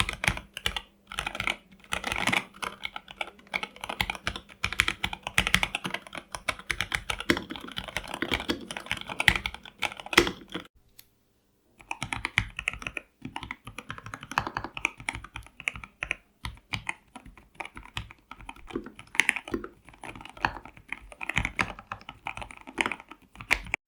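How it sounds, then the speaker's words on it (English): Lubed mechanical keyboard switches clack in fast, irregular bursts of typing, close and crisp, with a brief pause near the middle before the keystrokes resume. "Lubing is a very important mod which is done to the switch by the keyboard community, which greatly improves the sound and the smoothness of the switch."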